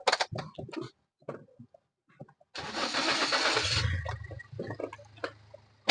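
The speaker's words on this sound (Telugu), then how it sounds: "ఒకసారి బండి కూడా స్టార్ట్ చేసి ఇంజిన్ కూడా చెక్ చేసుకుందామండి." A second-hand car's engine is started in Nellore: a loud cranking burst catches and settles into a steady low idle, after a few clicks and interior taps.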